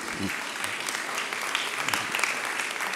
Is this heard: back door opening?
no